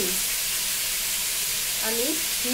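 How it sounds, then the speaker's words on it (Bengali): Ghee sizzles steadily in a hot kadai, a loud, close, continuous hiss of frying, with a voice briefly heard near the end. "সেই কড়াইতে আমি পরিমাণ মতো ঘি ছেড়ে দিলাম।"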